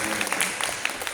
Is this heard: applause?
yes